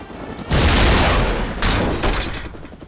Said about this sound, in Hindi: 2-4 चेतावनी वाली गोलियां चलाओ अभी।